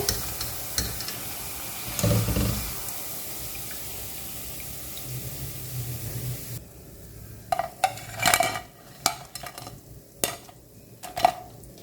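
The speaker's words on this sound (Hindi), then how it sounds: "और इसी तरह से मैं सारे पकोड़े फ्राई कर लूँगी" Pakoras deep frying in hot oil for kadhi pakora: a dense, even sizzling hiss fills the first part, then gives way to quieter background broken by intermittent clinks and splashy knocks of utensils.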